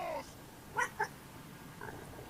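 A cat meows twice in quick succession, short and fairly faint against quiet room tone during a Resident Evil 4 play session.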